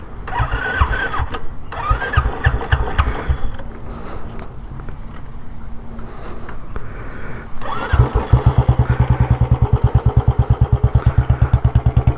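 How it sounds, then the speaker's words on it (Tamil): Royal Enfield Electra 350 single-cylinder motorcycle fitted with a short shot-bottle exhaust silencer, cranking and catching, then settling into a loud, close, steady thumping idle with strong rhythmic exhaust pulses and no talk. "இந்த எக்ஸ்டாஸ் சைலன்சர் வந்து பார்த்திங்கன்னா ஷார்ட் பாட்டில் போட்டுருக்கோம். சவுண்டு ரொம்ப நல்லாயிருக்கும்."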